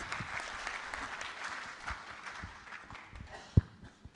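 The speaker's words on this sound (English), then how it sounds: "Applause, please." A conference audience gives light, scattered applause for a sponsor speaker from Google Cloud, soft and somewhat distant, with one sharp louder clap near the end.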